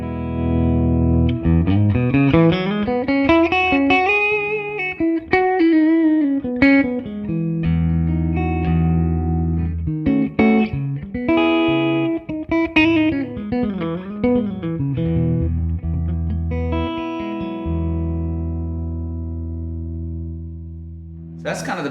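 Clean electric guitar through an Oldfield Black Hawk 50 amp with the middle control set low: melodic single-note phrases and sustained chords with bends, played steadily throughout and ending on a held chord.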